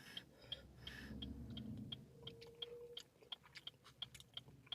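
Someone chews a bite of crispy fried bread, loud close crunches repeating in an irregular rhythm, first dense and grinding, then sharper isolated crackles as the bite breaks down, with no talking.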